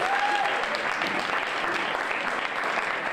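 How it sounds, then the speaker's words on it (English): Audience at a pub comedy show applauds the host, dense continuous clapping from a nearby crowd holding steady and fairly loud throughout, with a brief whistle near the start. "let's give a round of applause to our host for the evening, Whiskey Creek Pub, for having us in here"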